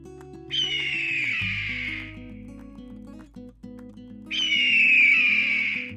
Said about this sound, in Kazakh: Бүркіт